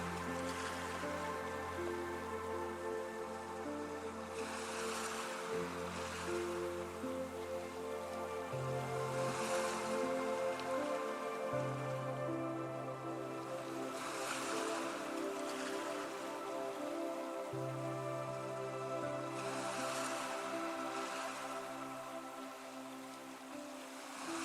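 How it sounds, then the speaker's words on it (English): Ocean waves wash in at slow, regular intervals, each soft surge rising and fading beneath steady, gentle background music. "gently guide your focus back to the sound of the waves"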